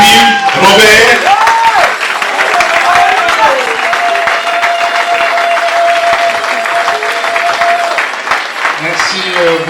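A loud audience bursts into applause and cheering as a doctor is welcomed to the stage at a church jubilee gathering, with a dense wash of clapping, shouts and a sustained musical tone beneath.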